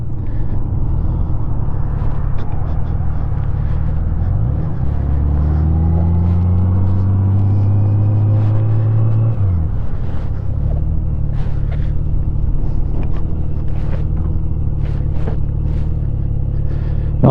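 A 2002 Honda GL1800 Goldwing rumbles along and then pulls off the road, its engine note rising and falling as it slows and settles. Steady road and wind noise runs throughout.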